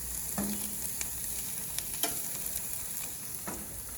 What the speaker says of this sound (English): Look at that sheftalies cooking.